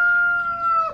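A rooster crows once, loud and close, at a chicken coop, a single drawn-out call that fades at the end.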